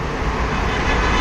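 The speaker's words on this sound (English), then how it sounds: "Oh, just scooters and cars and trucks and everything just going everywhere." Busy Bangkok street traffic with scooters, cars and trucks near an outdoor food market, a dense continuous roar of engines and road noise close by, with no talking.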